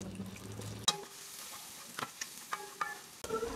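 Chopped onion sautéing in hot oil in a pan, a brief close sizzle with a sharp hiss as it lands, followed by scattered scraping stirs and light clatter, no voices.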